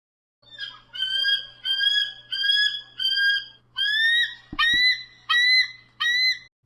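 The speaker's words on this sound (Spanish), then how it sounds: "Águila." An eagle gives a series of about nine sharp, screeching calls in a steady rhythm, loud and close, with no talk.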